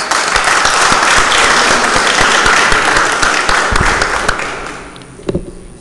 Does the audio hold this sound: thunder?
no